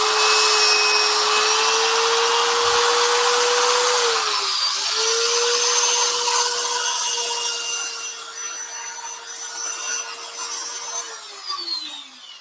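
A power sander whines steadily and loudly, its pitch dipping briefly midway and again near the end as it winds down slightly.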